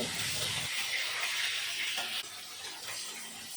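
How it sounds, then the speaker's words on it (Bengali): Fish heads sizzling in a pan of hot oil while cooking a drumstick fish curry, with a loud, continuous close hiss that eases slightly partway through and no talking. "একইভাবে ভালো মতন মাছের মাথাটাও ভেজে নেব"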